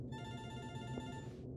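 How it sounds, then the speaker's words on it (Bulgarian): A telephone ringing inside a video game: one steady, tonal electronic ring that holds for about a second and a half and then stops. It sounds clear and moderately loud. "Някакъв телефон звъни."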